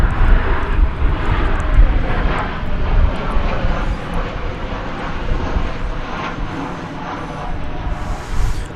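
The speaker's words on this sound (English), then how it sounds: "That's flight 2114 coming in from Santa Ana, California, 737-800" Boeing 737-800 airliner landing at DFW airport, a continuous loud jet engine roar that holds steady, then slowly eases off over several seconds.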